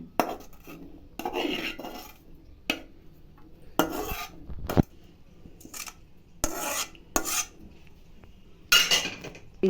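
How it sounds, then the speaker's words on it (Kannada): Fried onion and garlic being added into a mixer jar, heard as intermittent scraping rasps and clinks of a spoon against metal, in short bursts separated by quiet gaps. "ಈಗ ಬಿಸಿ ಆರೈತೆ ಜಾರಿಗೆ ಈರುಳ್ಳಿ ಬೆಳ್ಳುಳ್ಳಿ ಹಾಕೊತಾ ಇದ್ದೀನಿ"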